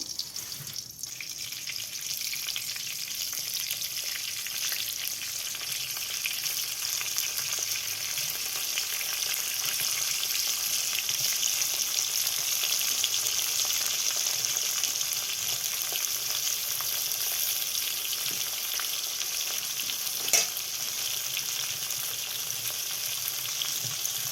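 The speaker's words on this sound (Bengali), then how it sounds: "এবার আমি এক এক করে তেলে দিয়ে দেব।" Cauliflower florets go into hot oil one by one and fry with a continuous, even hiss for a long stretch. A single sharp click lands near the end, and no one speaks.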